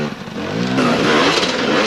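A motorcycle engine revs loud and close at a snow race, with its droning pitch climbing and swelling partway through.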